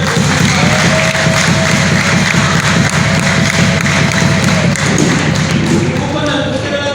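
Loud sustained applause and clapping from a wedding crowd in Rwanda, steady and dense throughout with a faint tone and murmuring voices beneath.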